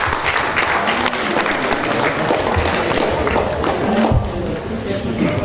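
Loud, full applause from a large audience at an annual HR congress, a dense wash of clapping that fills the room, with voices talking underneath throughout.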